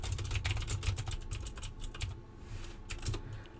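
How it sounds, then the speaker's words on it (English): Rapid, uneven keystrokes clatter on a computer keyboard in quick bursts, close and fairly quiet, with a brief pause midway and no talking. "just type backslash author"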